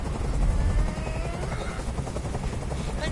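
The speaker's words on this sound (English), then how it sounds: "I can't stand that noise anymore! Tell that helicopter to get out of here!" A helicopter in the Detroit: Become Human video game thrums with a steady, loud rotor chop that stays close throughout, with no talk over it.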